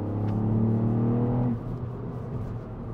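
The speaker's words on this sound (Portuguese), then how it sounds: "1500 a gasolina, 3 cilindros a fazer isto" A Ford Fiesta ST Mk8 with a 1.5-litre three-cylinder turbo petrol engine revs up with a droning, rising note, then drops back to a lower rumble, close and steady.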